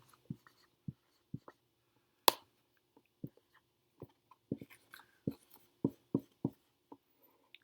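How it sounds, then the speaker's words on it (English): Pen strokes and taps of handwriting a sentence, a sparse series of short scratches and clicks at uneven intervals, close and quiet with no talking. "So what I'm going to do is I'm going to write the sentence"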